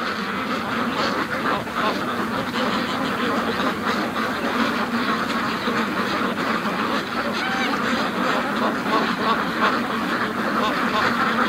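Free-range ducks gathered on a frozen lake keep up a constant crowded quacking, a busy, hive-like din of overlapping calls heard up close throughout.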